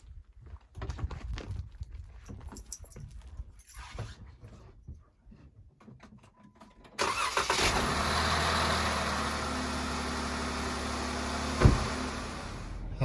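A Jeep Wrangler JKU cranks over and fires up, then settles into a steady, close idle after some quiet handling noises beforehand; a brief louder bump comes near the end.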